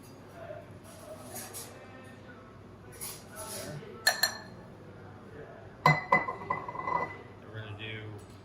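A Yari bar glass clinks as a cocktail is built in it, with a few sharp glassy taps and rings standing out over a low background of faint voices and handling noise.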